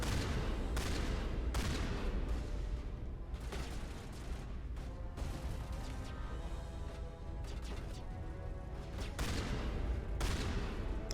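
Turrets fire in the video game Mass Effect: Legendary Edition, sustained loud bursts of gunfire and booming impacts with sharp repeated volleys over a dense, continuous battle din.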